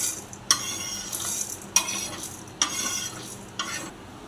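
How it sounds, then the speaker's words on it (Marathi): Roasted spices for stuffed brinjal curry are stirred and scraped from a pan, with four distinct metallic scrapes at irregular intervals over a faint, steady sizzle, close and clear with no talk. "मसाले भाजले, आता आपण काढून घेऊया"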